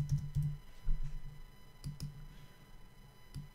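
Scattered clicks of typing on a computer keyboard, near and fairly soft, in short irregular bursts with pauses and no voices.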